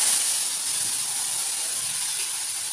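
Hot water poured onto a fish curry spice paste of green chilli and black cumin gives off a loud, steady steamy hiss that holds evenly throughout, close by and alone.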